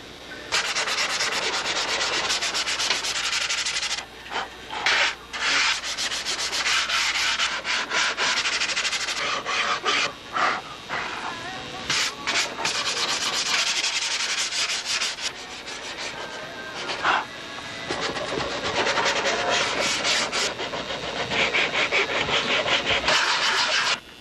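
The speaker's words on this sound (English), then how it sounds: "I'm going to get myself in gear for a nice sanding session on that body." Steady hand sanding on the tissue-covered body of a Strega 14 model airplane, a loud, close, continuous rasping rub in long back-and-forth strokes with brief pauses, no voices.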